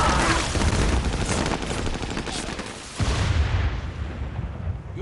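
Artillery fire in a World War II Pacific beach battle scene: heavy, sustained booms and rattling gunfire fill the soundscape, with a sharp fresh blast near the end.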